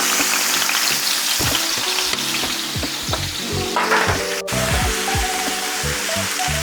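Peppers and onions for fajitas sizzle loudly in a hot pan, a steady close frying hiss with scattered crackles and occasional stirring clatter throughout.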